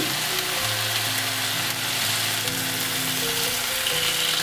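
Teriyaki chicken thigh steak frying in a pan over medium-low to medium heat, a constant close crackling sizzle filling the clip, with faint low tonal hum running underneath.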